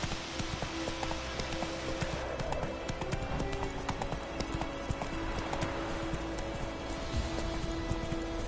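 The horse Roach galloping in the video game The Witcher 3, a dense, continuous rhythm of hoofbeats close up over a steady background hum.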